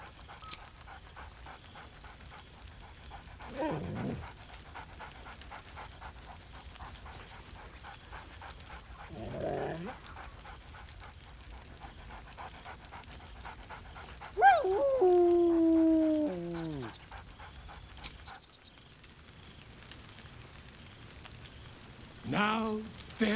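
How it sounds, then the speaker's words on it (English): A dog in the video game Baldur's Gate 3 pants softly throughout, with a few brief whimpers and one longer warbling whine-like bark, quiet ambient game tones beneath. "Scratch barks merrily in something like agreement."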